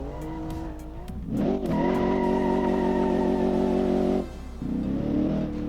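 A 1982 Viper concept car in a driving video game revs hard and accelerates, a loud, sustained engine drone that holds steady, cuts off briefly with a tyre-squeal-like whine, then climbs again.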